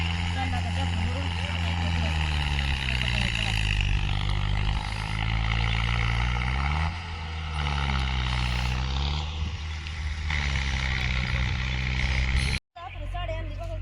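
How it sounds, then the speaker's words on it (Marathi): A loaded tractor drives with a loud, continuous engine drone that rises and falls in pitch as it works, ending in a brief cut-off near the end. "चालला आता ट्रॅक्टर भरून"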